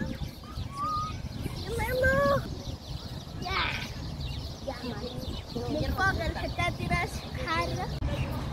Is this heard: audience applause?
no